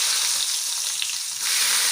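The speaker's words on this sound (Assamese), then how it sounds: "তাৰপিছত পিঁয়াজ দিম" Onion goes into a hot wok with fenugreek seeds and panch phoron, setting off a loud, close, continuous hiss of frying that drops briefly before surging back.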